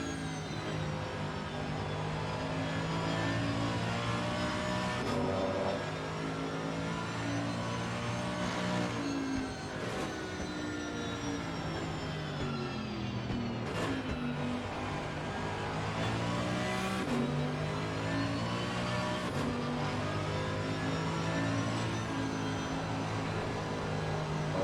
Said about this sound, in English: A whole bunch of cars just went past him.